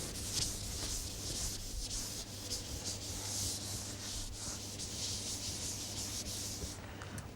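Chalk is rubbed off a blackboard with steady back-and-forth strokes, a continuous close scrubbing hiss with rhythmic swells over a low background hum.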